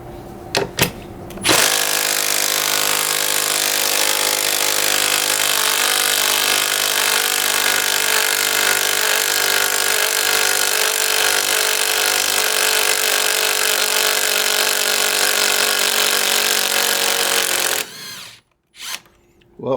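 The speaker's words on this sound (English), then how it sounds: "let's see if the Freak Lite can remove the lag bolt that was put in by the original Freak" A Bosch Freak Lite impact driver works to back out a lag bolt, a loud, continuous hammering whir running steadily for about sixteen seconds before cutting off, with brief bursts at the start and end.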